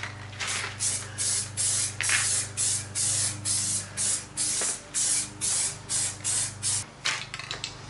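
A spray gun lays primer on the Type M front bumper of a Nissan Skyline R33 GTST in about a dozen short, even hissing bursts over a low steady hum.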